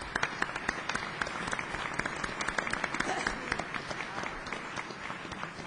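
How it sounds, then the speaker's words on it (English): An audience at an evening event marking the 30th anniversary of an internet milestone applauds steadily, dense clapping with a few sharper claps standing out, fairly close and sustained throughout. "Let's give them a big round of applause."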